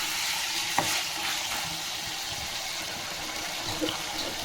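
Chicken for a chicken kaju fry being mixed with salt in a sizzling pan, a steady frying hiss with a couple of sharp spoon clanks against the pan, nobody talking.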